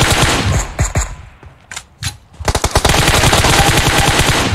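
Automatic gunfire in PUBG Mobile, loud and close: a long rattling burst, a short pause with scattered single shots, then another sustained rapid volley to the end.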